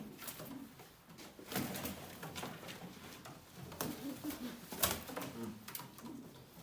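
Old-line Arab breed pigeons coo softly at a live auction, their low calls faint and intermittent amid light patter and scattered taps.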